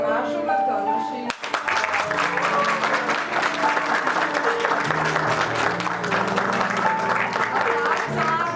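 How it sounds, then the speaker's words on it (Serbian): A crowd at a ballet school's final concert applauds a young ballerina with loud, sustained clapping that starts abruptly and continues over tonal music and voices. "Veliki aplauz za Mašu Martonošić."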